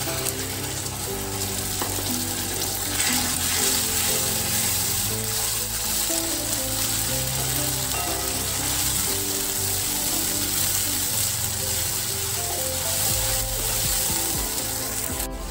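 A steady, dense sizzle of ginger, garlic and green chili paste frying in hot oil, with occasional stirring scrapes and clinks throughout.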